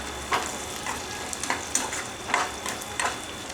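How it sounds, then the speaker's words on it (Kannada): Urad dal and curry leaves frying in a pan, a soft steady sizzle broken by several light stirring scrapes, fairly quiet and close. "ಇದೆಲ್ಲ ಹಾಕಿ ಈಗ ಫ್ರೈ ಮಾಡಬೇಕು ಒಂದು ಸ್ವಲ್ಪ"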